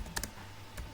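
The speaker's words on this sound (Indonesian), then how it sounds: "Nah ini kita akan jalani di terminal dengan kita mengetik" A few quick keystrokes on a computer keyboard while typing a command into a terminal, faint and close, with a short gap before a final tap.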